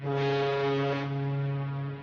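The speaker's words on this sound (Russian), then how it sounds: "Это был своего рода мощный гудок главного советского парохода." The powerful steam horn of a Soviet river steamship gives one deep sustained blast, loud and steady for about two seconds before it starts to fade.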